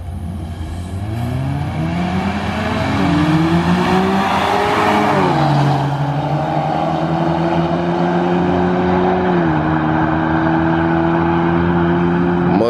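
A Mustang EcoBoost and a Nissan 350Z in a drag race, loud engines revving and climbing through the gears with clear shift drops, sustained close roar.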